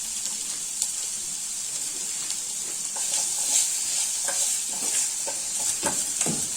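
Chopped onion frying in a pan as part of a Moroccan dish, a steady close hiss of sizzling oil with occasional scraping stirs of a utensil, no voices.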